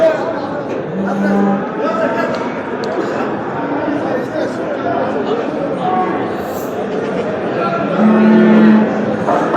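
Cows moo in a long, low drawn-out call, then again a few seconds later, over a steady hubbub of crowd chatter and livestock noise at a live animal market in Çubuk, Ankara.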